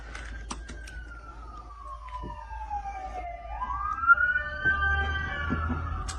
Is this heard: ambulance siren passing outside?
yes